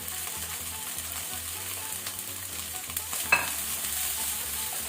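Capsicum stir-frying on high flame for pasta Manchurian gives a steady close sizzle with scraping stirs in a pan, and one brief sharper clank partway through.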